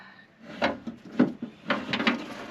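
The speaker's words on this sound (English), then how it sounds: "Now you can fold the regulator up." A car's window regulator is folded up by hand while it is being removed from the door, producing a few close, irregular mechanical clunks, scrapes and rattles, with no voices.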